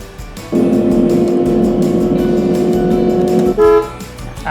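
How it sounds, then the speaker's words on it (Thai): A car horn sounds during a driving reaction test run by a health-check robot. It gives one long, loud, steady honk lasting about three seconds, then a short second toot, close by with no talking. "เมื่อเห็นรถหักตัดหน้าให้บีบแตรทันที"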